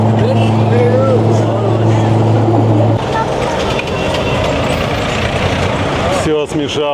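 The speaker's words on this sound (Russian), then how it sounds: "Здесь очень шумно работает труба, но так они пекутся." A loud, steady roar from a working bakery oven pipe in Cairo drones continuously, with a low hum that shifts partway through and a brief burst of other noise near the end.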